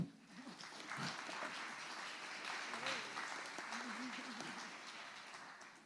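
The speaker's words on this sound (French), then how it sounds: "on peut les applaudir." Audience applause at a presentation on adapting old buildings, a steady wash of clapping over about six seconds with voices talking through it.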